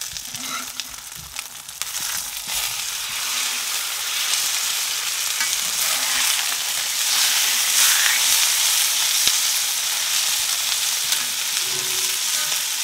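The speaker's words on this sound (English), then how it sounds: "that sound of that sizzle" Food sizzling over hot coals on a charcoal grill, a loud, steady, close crackling hiss that continues throughout with small pops and no talking.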